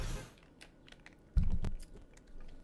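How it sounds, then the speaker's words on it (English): Typing on a new computer keyboard, with irregular clicks and clacks close up, a brief louder thump in the middle, and no talking. "I'm trying out this new keyboard that I'm doing an unboxing video for"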